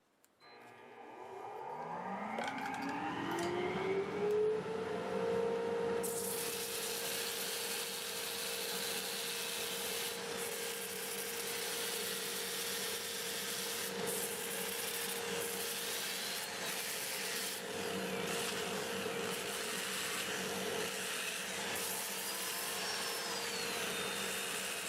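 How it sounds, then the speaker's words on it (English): Elm wood being sanded on a lathe while a dust collector spins up and then roars steadily and loudly throughout, with faint rubbing under the constant drone. "I'm going to start my dust collector, get it sanded up"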